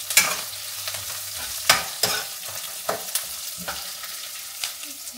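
Ingredients fry gently in a pan over a soft sizzle, and a spatula scrapes and taps it in a series of distinct strokes. The sound is close and there is no speech.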